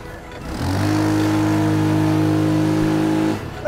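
Video game dune buggy and van engines rev hard together in a tug of war, one loud, sustained, rising engine drone lasting about three seconds before cutting off, with no talking.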